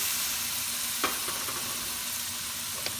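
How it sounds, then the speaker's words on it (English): Fresh tomatoes sauté in a pan with fish sauce, a steady soft sizzle running throughout, with a couple of brief utensil clicks and no talking. "Let's saute this for 2 minutes."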